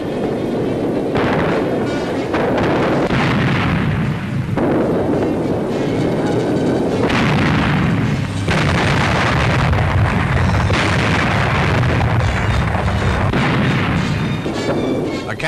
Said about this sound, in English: Here's a 6-pounder anti-tank gun at work.